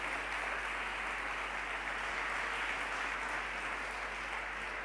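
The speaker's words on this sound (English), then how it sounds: "Big applause for her." A conference audience applauds after a speaker is introduced, producing an even, continuous wash of clapping from a large crowd that sounds somewhat distant, over a steady low hum, without voices.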